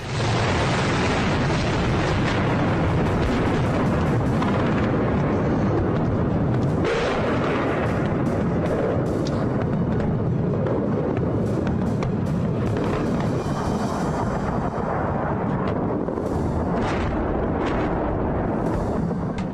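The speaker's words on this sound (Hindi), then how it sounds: "इतने धमाके हो रहे हैं कि गिनना मुश्किल हो रहा है।" Dense, continuous rumbling with heavy booms rolling over one another, loud and sustained, like a string of distant explosions blending into a roar, during airstrikes on Beirut.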